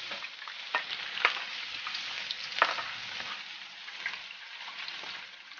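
Garlic fries in extra light olive oil at home, a quiet, continuous sizzle broken by occasional sharper crackles and the scrape of stirring.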